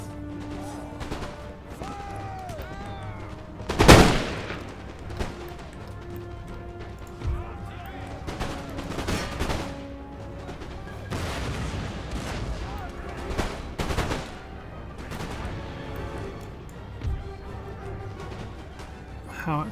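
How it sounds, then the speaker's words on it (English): Howitzers firing in a Napoleonic-era Empire Total War battle with France, one heavy boom standing out over scattered musket crackle and distant battlefield rumble, with a voice talking intermittently throughout. "Howitzers are firing nicely."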